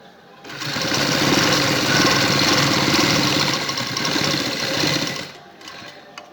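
An electric sewing machine runs steadily for about five seconds, stitching a neck strip onto a kameez, with a dense, even mechanical whir that starts and stops cleanly; no voices.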